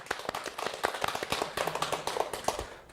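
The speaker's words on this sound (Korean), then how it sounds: "자, 박수 드립니다." A church congregation clapping during a Thanksgiving service, with scattered, uneven claps close by at moderate volume, some louder individual hits standing out from the rest.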